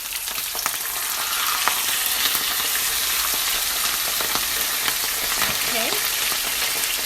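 Escovitch fish fries in hot oil, giving a loud, continuous sizzle and crackle with occasional pops, heard close up, with a faint voice briefly in the background.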